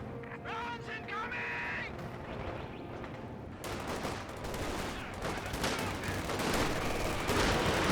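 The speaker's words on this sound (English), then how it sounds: "Oh, we do have the strafing run ability there." A strafing run in the video game Company of Heroes 2 sends dense rattling gunfire and explosive bursts building over the second half, under a caster's continuous commentary.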